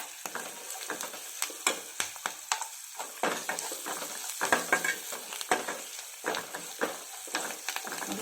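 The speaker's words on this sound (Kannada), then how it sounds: "ಸ್ವಲ್ಪ ಫ್ರೈ ಆಗಲಿ ಗೋಡಂಬಿ" Cashews frying in a pan of spices such as cumin and pepper for moong dal khichdi, a steady close sizzle broken by frequent sharp scraping stirs and clinks, with no talking.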